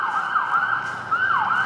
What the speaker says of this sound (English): we can hear some police sirens right now